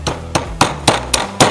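A hammer strikes a homemade percussion cap tool holding a piece of soda can, pressing out number 11 percussion caps. Six sharp, close metallic taps sound at a steady, unhurried pace, with no talking.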